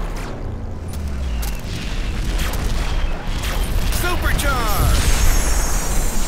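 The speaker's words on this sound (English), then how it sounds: "Incoming airstrike." Game explosions from an incoming airstrike in Hot Wheels Beat That! rumble in low booms under a dense mix of engine noise and music, with a brief game voice cutting in.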